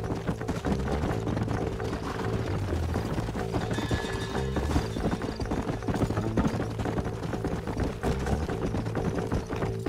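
Horses gallop in Red Dead Redemption 2, a steady clip-clop of hooves running under a dense, loud mix of game music and ambience for the whole stretch.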